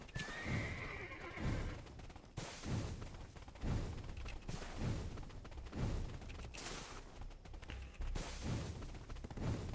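Horses neighing and whinnying in Black Desert Online, with repeated clip-clop hoofbeats and thuds in a steady rhythm, loud and close, with no talking.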